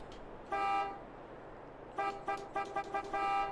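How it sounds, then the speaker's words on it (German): A truck horn in Farming Simulator 22 on a modded 1937 GMC truck: one sustained toot, a pause, then a series of short, clear honks close up. "Der hat eine Hupe."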